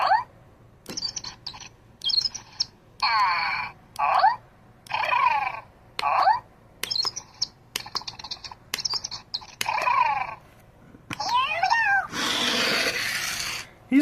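A Zhu Zhu Pets toy hamster plays its electronic sounds: a run of short, high, chirpy squeaks and meow-like warbles in quick bursts separated by clicks and mechanical ticks, ending in a longer noisy whirr, with no talk.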